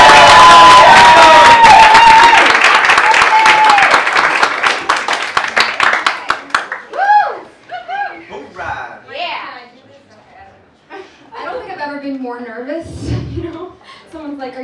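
Comedy club audience in New York claps and cheers loudly for several seconds, a dense wash of crowd noise that fades out as a performer begins talking.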